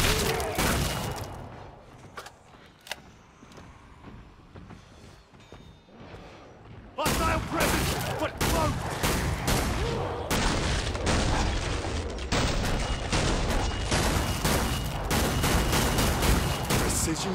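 Rapid gunfire from Killing Floor 2 on the Burning Paris map crackles in dense bursts, quieter at first and then suddenly louder and relentless, with heavy thuds and booms mixed into the shooting.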